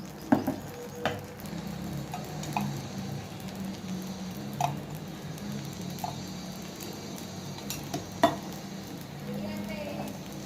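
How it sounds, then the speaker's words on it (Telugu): A chicken keema dosa cooks on a hot pan, giving a soft, continuous sizzle broken by a few light scrapes and taps, faint and close. "అలాగే ఇంకొక దోశ వేసుకుందామండి."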